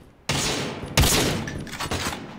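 Rapid gunfire in a shooter video game bursts in abruptly after a quiet start, dense automatic shots with a heavier blast near the middle, loud and close, and nobody talking over it.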